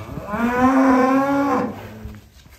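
A black Belgian Blue bull gives a single loud, drawn-out moo lasting about two seconds, close and clear with little else around it.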